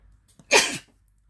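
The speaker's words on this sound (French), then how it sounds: "J'éternue à moitié." A half-stifled sneeze from an adult indoors: one short, sharp, breathy burst, close and fairly loud, with quiet room tone before and after.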